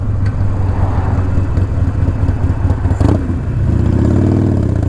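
A Harley-Davidson Iron 1200 Sportster motorcycle engine while riding, a loud, close, low rumbling drone with a throaty V-twin throb and a brief rise in revs near the end.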